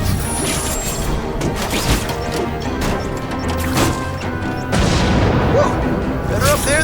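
A car rigged to explode blows up in The Amazing Spider-Man video game, a loud crash and boom breaking over dense game action and music, with a second heavy burst near the end.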